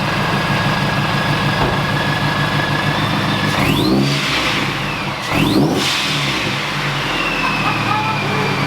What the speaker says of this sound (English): It's having a rough go catching its idle.